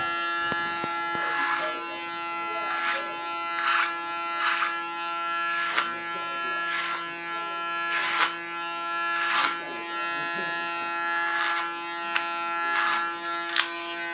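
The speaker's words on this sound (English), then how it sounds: "Using my clipper as a comb," An electric hair clipper buzzes steadily as it cuts and blends a woman's hair around the sides and ears, with repeated swishing strokes rising over the constant whine.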